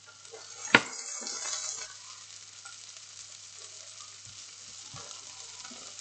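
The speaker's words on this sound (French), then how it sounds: "Alors je vais faire revenir mon oignon que j'ai émincé avec de l'ail." Thinly sliced onion and garlic sweat in a frying pan: a faint, steady sizzle follows a single sharp utensil clink near the start, with a few soft stirring knocks later.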